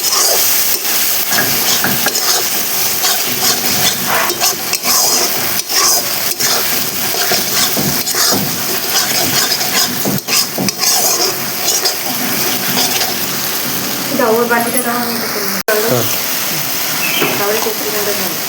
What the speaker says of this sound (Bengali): হালকা হালকা জল দিয়ে মশলাটা আমাকে কষাতে হবে।